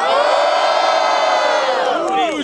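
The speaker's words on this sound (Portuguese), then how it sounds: "Mano, barulho pro Dopré, barulho pros caras aqui, barulho pro Caldeirão, porra" A rap battle crowd roars in loud, sustained cheering and shouting, with whoops and shrill voices blending into a dense wall of noise for the whole stretch.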